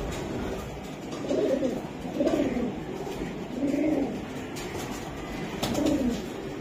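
Army pigeons, a domestic breed, coo nearby in four or five soft, throaty bursts spaced a second or so apart over a low, steady background hum, with no speech.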